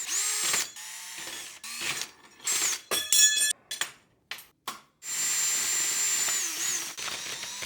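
A power drill runs a hole saw in bursts, whining and grinding through material, stopping and restarting several times before a longer steady cut.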